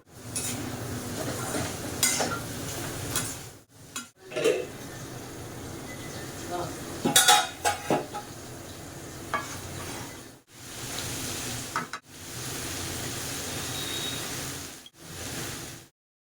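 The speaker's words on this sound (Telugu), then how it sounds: "వాష్ చేసి కట్ చేసి పెట్టిన మునక్కాయల్ని ఈ తాలింపులో వేసి అందులోనే రుచికి సరిపడా ఉప్పు పసుపు వేసి లో ఫ్లేమ్ లోనే ఒక పది నిమిషాలు మగ్గించాలి" Cut moringa drumstick pieces are stirred into a hot tempering in a pan with salt and turmeric over a low flame, giving a steady close sizzle with scraping and clattering utensil knocks that come in bursts, broken by short silent gaps.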